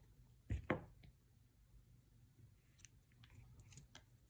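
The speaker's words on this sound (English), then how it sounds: "And now I'm going to cut the yarn." Scissors snip through knitting yarn close up, two quick crisp cuts in succession followed by faint handling rustles in a quiet room.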